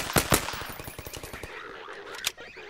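Rapid automatic gunfire in the Garry's Mod video game: a loud close burst of quick shots, then a slightly fainter string of rounds and one last sharp shot near the end, with no voices.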